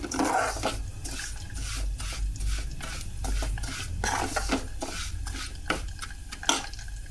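A spoon stirs semiya upma in a hot pan, scraping and clinking repeatedly against the metal over a soft sizzle, close and steady.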